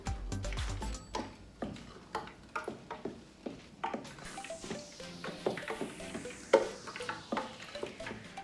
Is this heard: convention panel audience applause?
no